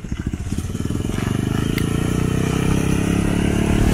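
A mini buggy's small engine revs up and accelerates close by, a loud throbbing putter that rises in pitch and intensity.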